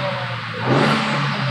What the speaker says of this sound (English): It's dumping. You hear that turbo.